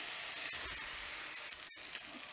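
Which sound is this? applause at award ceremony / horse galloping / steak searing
steak searing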